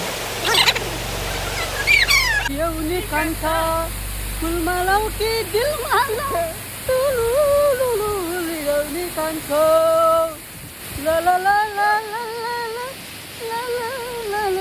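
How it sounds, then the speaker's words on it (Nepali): Namaste Waterfall, hidden in the hills, gives a steady broadband rush of falling water that runs through the whole clip, with a voice talking over it almost throughout. "पहाडको काखमा लुकेको प्रकृतिको सुन्दर उपहार नमस्ते झरना"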